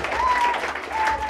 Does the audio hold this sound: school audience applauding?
yes